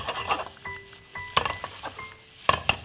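Shrimp fried rice sizzles in oil in a pan while a metal utensil stirs and scrapes it, giving soft frying hiss broken by several sharp clinks and clatters.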